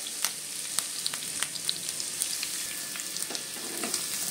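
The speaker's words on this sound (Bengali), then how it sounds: "এবার তেলের মধ্যে আমি পেঁয়াজ আর লঙ্কা কুচি দিয়ে দেবো।" Chopped onion and Kashmiri chili fry in hot oil with a steady, close sizzle dotted with sharp pops and spatters.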